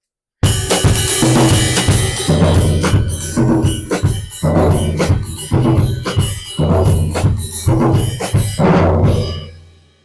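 A drum kit plays a mambo groove, with the toms carrying a conga-like pattern. The beat is loud, dense and steady, with sharp rhythmic hits for about nine seconds before it rings out.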